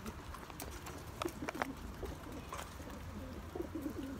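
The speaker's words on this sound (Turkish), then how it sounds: "Burada Adana kuşlarımız var." Adana pigeons in a Mersin loft give soft, low cooing calls scattered over steady faint background noise, with a few brief rustles and no talk.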